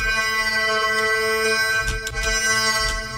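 A sustained synth note played in FL Studio with a flat EQ, carrying a harsh, ringing resonance; a steady, dense harmonic tone that holds throughout with a few brief noisy bursts partway through, and no talking.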